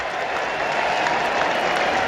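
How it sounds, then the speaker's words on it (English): Spectators at an England v New Zealand cricket test match applaud a batsman, a dense, steady wash of clapping from a large crowd heard at a distance with no pauses. "There's the support from the crowd."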